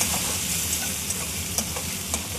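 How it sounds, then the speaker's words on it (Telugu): Chopped tomato pieces added to a frying mixture for a ridge gourd and chana dal curry, hissing steadily in the pan while a spoon scrapes and taps against the metal a few times. "ఆ తర్వాత తరిగిన టమాటా ముక్కలు కూడా ఫ్రై అవుతున్న మిశ్రమానికి యాడ్ చేసుకొని బాగా మిక్స్ చేసుకోవాలి."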